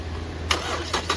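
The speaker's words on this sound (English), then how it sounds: "but start the car." A car engine in an automotive lab cranks and catches, a sudden rough burst of starter and combustion noise rising over a steady low hum, with a few pulsing surges as it fires up close by.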